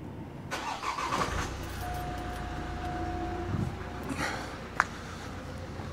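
A Vauxhall Astra H van's engine cranks briefly and catches, then settles into a quiet steady idle with a faint whine, heard close by with a small click near the end.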